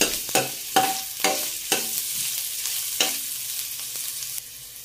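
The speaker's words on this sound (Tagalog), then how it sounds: "Lagyan po natin ng mantika. Lagyan na natin yung ating luya." Ginger sautéing in hot cooking oil in a pan for a salmon tinola, a steady close sizzle broken by repeated bursts of stirring scrapes about every half second.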